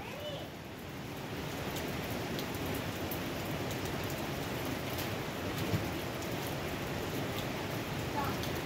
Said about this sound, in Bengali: দেখো বৃষ্টি পড়ছে বন্ধুরা, অনেকটাই বৃষ্টি পড়ছে